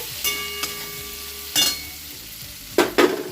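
Masala cooked down in oil until the oil separates makes a low background sizzle, cut by three distinct scraping stir strokes against the pan, the last a quick double scrape.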